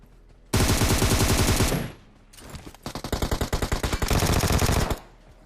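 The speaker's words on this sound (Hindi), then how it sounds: "मैंने उठाई गन और आज बहुत ही सस्ती गन है मेरे पास, दोनों केवल क्लोज रेंज की" Cheap close-range guns in PUBG Mobile fire three long, loud bursts of rapid automatic shots, separated by short pauses, with no talk.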